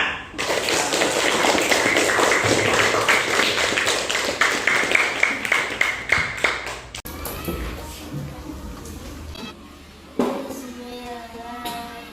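A primary-school class of children applauding together, dense brisk clapping for several seconds that tapers off, followed by a teacher talking in a classroom.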